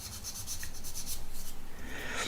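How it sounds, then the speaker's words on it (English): Rhythmic scratchy rubbing, quick back-and-forth strokes of an 800-grit sanding sponge over hard plastic on a 1/200 scale ship model, close and fairly quiet with no talking. "So I'm gonna go in with an 800 grit and just take that nub down."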